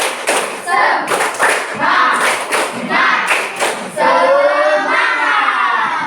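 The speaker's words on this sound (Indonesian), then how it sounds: "Tepuk semangat dulu untuk semuanya supaya lebih semangat kelompok yang presentasi" A class of children does a rhythmic spirit clap, with bursts of patterned clapping and thumps mixed with shouted chanting, loud and close, ending in sustained group voices.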